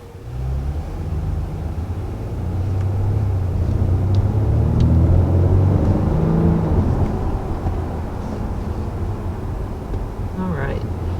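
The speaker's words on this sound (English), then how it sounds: "So let's go ahead and take this on a test drive." A 2020 Acura TLX with a four-cylinder engine pulls away on a test drive, giving a steady low road and engine rumble that swells through the middle and stays fairly loud.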